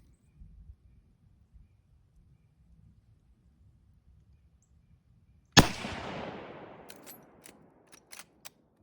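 A single rifle shot, either a .223 or a 30-30, fired outdoors: one loud sharp crack after a quiet stretch, followed by a long decaying echo and a few faint clicks.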